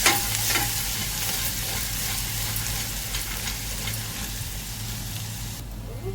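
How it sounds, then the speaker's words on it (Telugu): Garlic fries in oil in a pot, giving a continuous close sizzle with a few stirring scrapes over a low steady hum. The sizzle cuts off abruptly near the end, and there is no speech. "ఒక గిన్నె పెట్టుకొని ఆయిల్ వేసుకొని కొంచెం"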